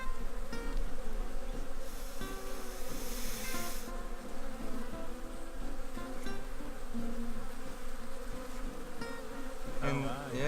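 Honey bees buzz continuously at an open beehive as a brood frame is inspected, a dense, steady hum up close. Faint handling noises are scattered through it.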